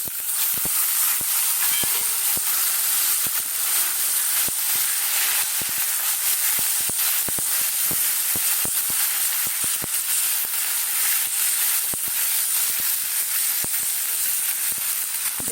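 Flat beans hit a hot pan of mixed winter vegetables with prawns and garlic tempering, setting off a loud, sustained sizzling hiss peppered with rapid sharp crackles and pops throughout.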